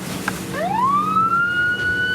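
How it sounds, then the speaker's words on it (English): A police siren on a boat starts up close and loud, its wail sweeping upward from low and settling into a sustained high tone, alone without talk. "Turn on the siren."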